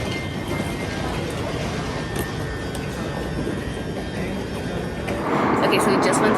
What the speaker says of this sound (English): now we're on a train and we're taking another train